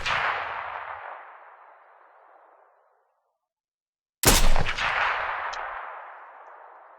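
Two sharp scoped rifle shots in the VR shooter Into the Radius, each a loud close crack followed by a long fading echo, separated by a couple of seconds of silence, no voices.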